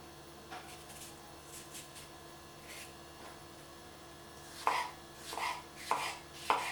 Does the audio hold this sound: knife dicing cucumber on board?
yes